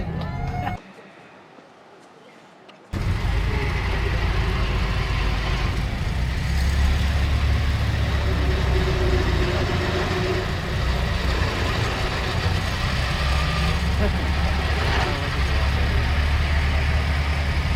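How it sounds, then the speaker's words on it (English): Ford Model T engines rumble and idle steadily after a brief quiet gap at a hill climb event, a low continuous chugging drone with faint background crowd noise. "Engines get started."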